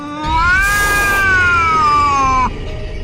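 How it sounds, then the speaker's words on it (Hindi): A cartoon cat lets out one loud, drawn-out screeching yowl lasting over two seconds, wavering and then cutting off abruptly, close and alone. "जोरों से आवाज करती हुई बिल्ली मर जाती है"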